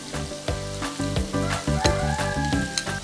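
Pork belly fries in a hot pan as garlic goes in, giving a loud, close, continuous sizzle broken by sharp spits and clinks of stirring, no talk.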